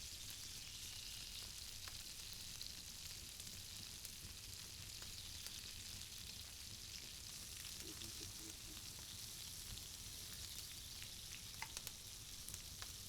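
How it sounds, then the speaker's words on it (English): Meatballs sear in a pan outdoors, a steady, dense sizzle and crackle of hot fat that runs unbroken throughout at even loudness, with a few faint knocks near the end. "We want to sear them on all sides until they get a nice golden brown color."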